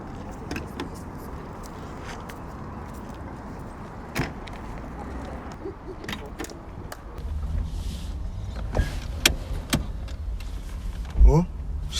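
People getting into a car, with rustling movement, knocks and thuds, a door shutting, and a louder clunk near the end, while several voices talk throughout.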